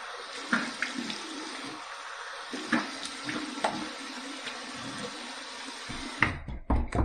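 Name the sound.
cold water running for a rinse after shaving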